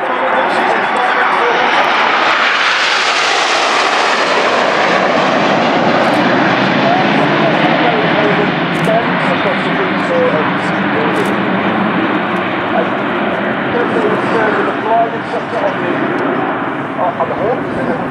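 Red Arrows jets fly past in Tango formation at an air display in Jersey, a loud, sustained engine roar that swells and then fades slowly, with a commentator speaking over it.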